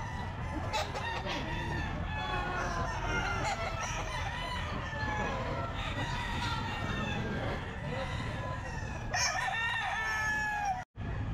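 Chickens and roosters at a Sunday pet market cluck and crow continuously, several birds calling over one another in a busy crowd with people talking nearby.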